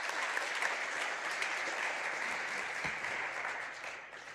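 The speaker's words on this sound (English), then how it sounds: "Can we just give everyone a last round of applause?" A crowd applauds steadily at a science conference session, dense clapping filling the room at an even level, with no voices standing out.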